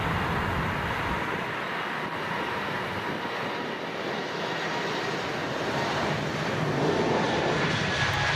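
A Japan Airlines airliner takes off from London Heathrow runway 27R, giving a loud, continuous broadband jet engine roar that fills the whole clip with no pauses.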